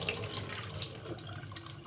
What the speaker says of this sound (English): Dump the water in there.